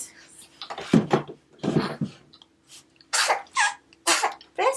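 A small, high-pitched sneeze from a congested six-week-old newborn stands out among several short snuffly breaths and little nasal noises, close to the microphone.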